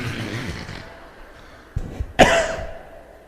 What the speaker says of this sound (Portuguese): Ao longo da palestra eu vou tossir muito.